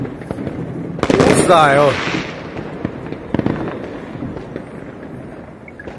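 New Year's Eve fireworks from a firework cake burst in a rapid string of loud cracks and bangs, with crackling spreading between the blasts, while a man exclaims over the noise.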